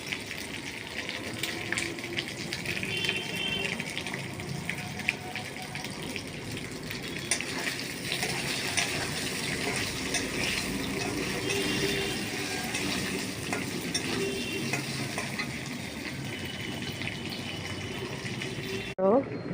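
Food sizzles in a frying pan with a steady, crackling hiss that holds for the whole stretch, while a person talks over it.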